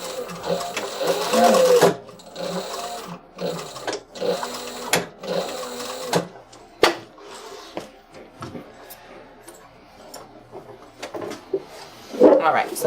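A sewing machine stitches a handle onto a Voyager backpack, running in several loud bursts of rapid stitching separated by short pauses, with a person speaking briefly at one point.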